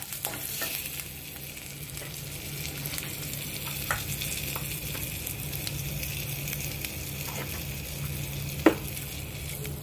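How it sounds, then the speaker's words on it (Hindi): Coriander powder and two whole red chillies sizzle steadily in hot oil in a pan, a constant crackling fry with occasional stirring knocks and a sharper tap near the end, no talking. "इसको तड़कने देंगे थोड़ा सा और फिर उसके अंदर डाल देंगे हींग।"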